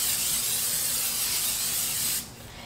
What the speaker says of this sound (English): I'm just gonna spray some of this canola oil spray